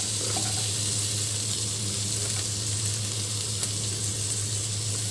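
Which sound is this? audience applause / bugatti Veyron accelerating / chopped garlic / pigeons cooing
chopped garlic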